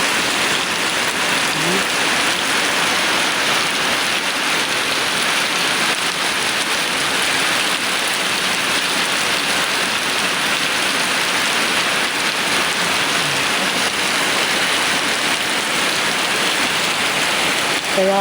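Heavy typhoon rain pours down in a dense, steady roar with no break, loud and close throughout, and no voices are heard.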